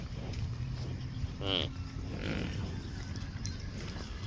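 A single low, drawn-out buffalo call sounds briefly from a short distance over outdoor background noise and faint voices; the buffalo is in heat.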